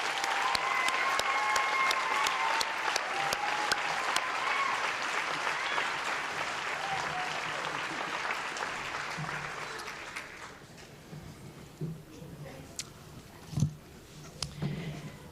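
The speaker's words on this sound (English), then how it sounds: "please give a round of applause for Bryson Waller, Westside Distinguished Alumni" Audience applause at the 2019 Westside High graduation, a full burst of clapping that dies down after about ten seconds, leaving quiet room sound with a few scattered knocks and bumps.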